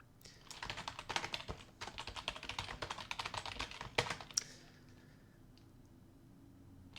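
Rapid clattering keystrokes on a computer keyboard while coding, close and fairly quiet, in quick bursts for about four seconds before fading to near silence.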